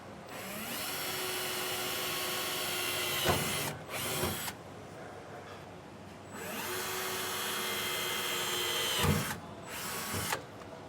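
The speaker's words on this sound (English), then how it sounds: "take our 1/8 inch drill bit and we're going to poke through and make a pilot hole" A power drill with a 1/8 inch bit whirs steadily in two long runs, drilling pilot holes into a 2023 Ram 2500 truck bed, each ending with brief stops and restarts, loud and close.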